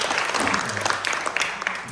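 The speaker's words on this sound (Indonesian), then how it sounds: "Tepuk tangan dong buat Tuhan." A church congregation applauds throughout a worship service, a dense, lively clatter of many hands clapping at once.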